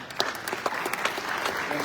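An audience at a UNESCO working session on disability breaks into brisk, dense applause, with many overlapping claps at moderate distance throughout the short burst.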